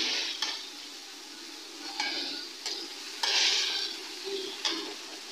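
Meat for nihari sautéing over low heat in a pressure cooker: a soft, steady sizzle broken by several scraping stirs of a spoon against the pot, close and moderately quiet, with no voices.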